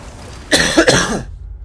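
A single loud, close cough with a raspy throat-clearing quality, lasting under a second, then quiet.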